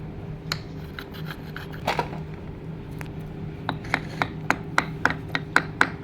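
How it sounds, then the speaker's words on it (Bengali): Chilli is pounded with a small mortar in a toy kitchen, giving sharp, close taps that come sparsely at first and then in a quicker, steady run of light knocks, with no voices. "একটু লঙ্কা বেটে নাও। আগে থেতো করে নাও টুকটুক করে।"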